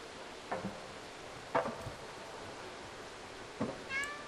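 In the video game Stray, a cat meows three separate times at wide intervals, short and fairly soft against a quiet hiss of background ambience.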